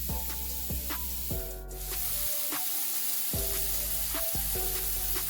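Pork on pineapple leaves on a grill gives a steady, close sizzle and hiss, with background music running underneath.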